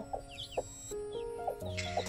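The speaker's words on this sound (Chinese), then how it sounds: "两只小鸡还打架嘞" Newly hatched chicks and a hen make soft clucks and thin peeps in short, scattered bursts, faint and close, with no talk over them.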